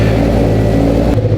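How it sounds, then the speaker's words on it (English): A jumper car's engine runs loud and close in a steady low rumble, the roar dipping briefly near the end, with no talking. "Let me start up the jumper car."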